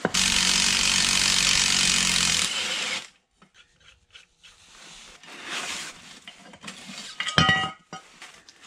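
Impact gun hammering on very tight rear subframe bolts of an E46 BMW wagon: a loud, continuous, close rattling burst of about two and a half seconds, then quieter scraping and clanking of tools.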